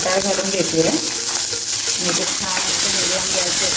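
Peas sauté in a pan over a medium gas flame, a steady close sizzle broken by clinks and scrapes of a spoon stirring against the pan.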